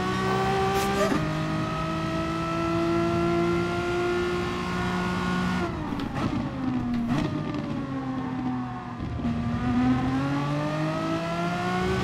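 Race car engine in GT Sport roars steadily at high revs, dipping and climbing through gear shifts and corners, loud and continuous with no talk over it.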